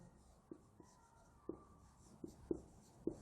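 Writing during a Grade 5 maths lesson on fractions: faint, close pen or marker strokes land as half a dozen soft taps in an irregular rhythm over a quiet background.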